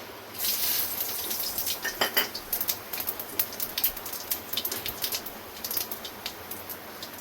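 Cumin seeds, bay leaf and cardamom hit hot oil in a pan and sizzle with a crackle of sharp pops and spatters that gradually thin out, close and fairly quiet.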